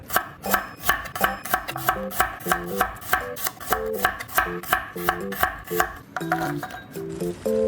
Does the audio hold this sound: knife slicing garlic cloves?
yes